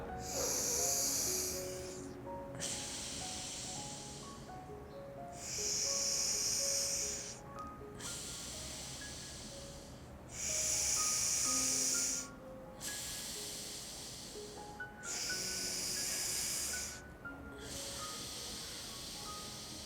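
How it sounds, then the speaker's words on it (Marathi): Slow alternate nostril breathing in nadi shodhana pranayama: four long, loud nasal hisses recur at even intervals, each followed by a quieter exhale, close to the microphone. "उजव्या नागपुडीने श्वास घ्यायचा आणि डाव्या नागपुडीने श्वास सोडायचा आहे"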